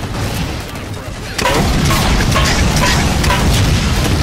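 A fuel rod gun fires in Halo 4 Spartan Ops with a sudden heavy boom, then a sustained loud rumble of explosive impacts and crackling combat noise, with faint speech mixed in.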